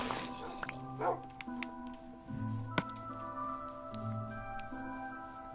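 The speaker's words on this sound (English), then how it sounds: "Bad dogs trying to kill a cow that I didn't know about." Dogs in the Minecraft video game yip and bark in short, faint bursts while attacking a cow, set against a steady background of game sound.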